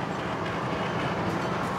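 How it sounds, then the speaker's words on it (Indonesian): The Sawung Gali passenger train from Kutoarjo to Jakarta Pasar Senen rolls into the station with a loud, continuous rumble and rattle of wagons heard close by, with no talk over it. "Ini yang baru masuk adalah kereta api Sawung Gali dari Kutoarjo tujuan akhir Jakarta Pasar Senen"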